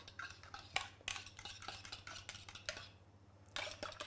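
Eggs beaten in a bowl for treacle and ginger bread, a fork or whisk clattering and scraping rapidly against the bowl in steady strokes, close and quiet with a brief pause near the end.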